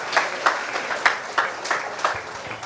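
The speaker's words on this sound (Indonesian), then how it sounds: "tepuk tangan dulu" A small church or seminar audience gives a brief, sparse round of claps, about a handful of distinct, rhythmic hand claps spaced evenly over a couple of seconds in a reverberant room.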